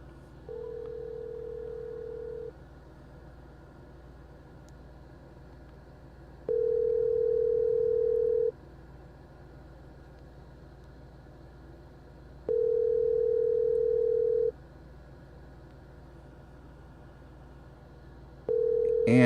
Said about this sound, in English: we're going to try calling Jeff on the phone and see if we can get him this way